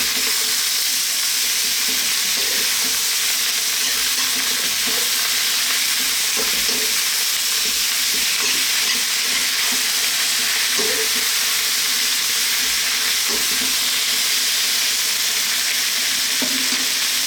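Chili peppers stir-fry in a hot pan, a loud continuous sizzle and hiss with occasional tossing clatters, close and steady throughout.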